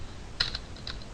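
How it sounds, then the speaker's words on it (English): Keys clatter on a computer keyboard during Java coding, a few quick light taps in a short burst, close and crisp over a quiet room. "let me type it right"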